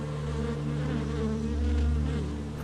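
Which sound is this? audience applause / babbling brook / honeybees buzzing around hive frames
honeybees buzzing around hive frames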